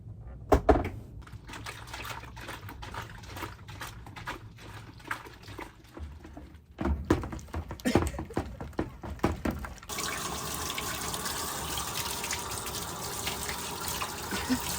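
Water splashes and trickles in a sink while a tiny piece of crochet fabric is washed, with small intermittent splashes and drips giving way to a steady running-tap rush.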